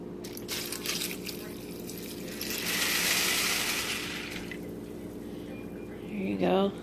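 Water pours in a steady, close stream for a few seconds as a mother helps a child, with people talking around it before and after.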